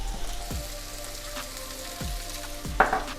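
Peppers and onions sizzling in a hot cast iron skillet with salt added, a steady close frying crackle broken by a few low thumps and a brief spattering burst near the end.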